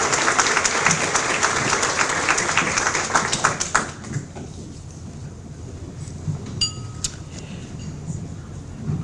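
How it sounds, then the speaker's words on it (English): An audience at an evening of excellence applauds the school-level Teachers of the Year, with strong clapping for about four seconds that then thins out to scattered claps and room noise. "Let's have another round of applause for our school-level Teachers of"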